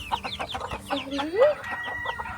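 Hens clucking and calling around a backyard coop, a flurry of overlapping cackles and short squawks close by, with one rising drawn-out call in the middle.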